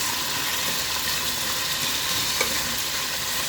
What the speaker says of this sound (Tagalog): Ano na itong prito ko muna itong carrots at saka